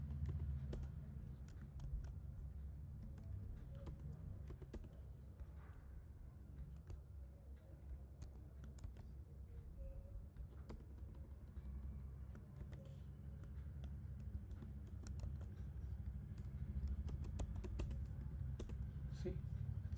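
Steady clicking of computer keyboard keys while code is typed, quiet and continuous under a low background hum.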